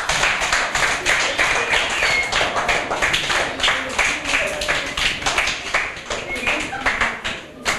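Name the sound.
audience applauding Kénissia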